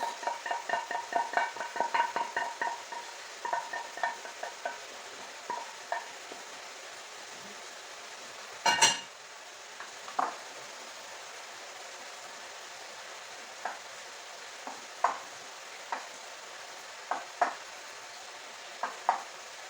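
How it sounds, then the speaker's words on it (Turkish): Cream goes into a pan for a creamy chicken pasta: a soft, faint sizzle runs throughout, with scattered light stirring clicks that thin out over time and one sharper knock midway. "hemen kremamızı döküyoruz."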